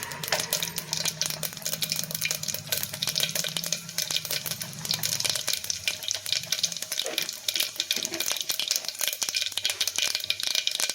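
Mustard and cumin seeds crackle and spit in hot oil while tempering for a Tamil vegetable dish, a dense, steady close sizzle with scattered pops throughout, no voices.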